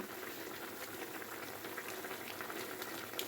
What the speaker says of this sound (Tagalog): Ayan, kumulo na siya guys.